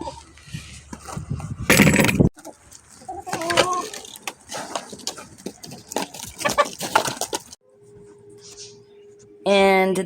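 Backyard hens in a coop give short, intermittent clucks close by, mixed with scattered knocks and rustling, separated by brief quiet gaps.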